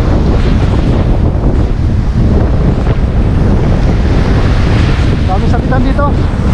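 Loud waves and strong wind buffet the microphone in a constant roar, with a brief high whistling or shout near the end.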